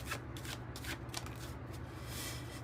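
Cards from the 108 Oracle deck being shuffled and drawn, a quick run of crisp papery riffling and flicking, close and fairly quiet, with no talking.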